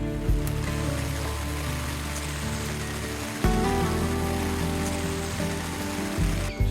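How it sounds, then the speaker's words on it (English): Rain falls steadily through the night at an Outback campsite near Quilpie, a dense, even hiss drumming on a nearby surface with a low continuous rumble beneath, no voices. "the rain came down"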